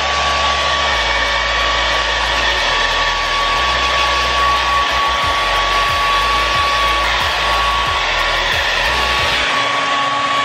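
A hair dryer blows on wet clothes in a Caesars Palace hotel room in Las Vegas, a loud, close, steady whir with a thin whine that keeps going, its airflow briefly thumping and shifting as the garment moves.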